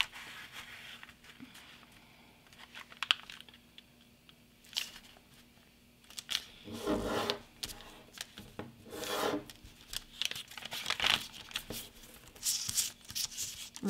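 Paper being folded by hand for an origami alien, with soft rubbing and crisp creasing strokes close up. The sounds are sparse at first, then become frequent and busy in the second half, with no talking.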